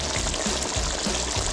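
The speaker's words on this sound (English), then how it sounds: "I turned the heat down low, so it's simmering right now" Cassareep chicken stew simmering in a pot over low heat, a steady soft bubbling and faint sizzle that stays close and even throughout, with no voices.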